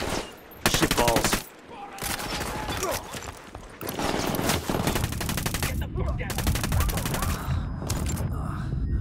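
Bursts of automatic gunfire and single shots from the video game Ghost Recon Wildlands, loud and repeated across the clip with brief pauses between volleys.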